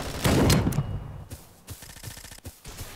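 Loud burst of gunfire in a browser shooter video game, a dense rapid volley up front followed by softer scattered shots and thuds, close and alone.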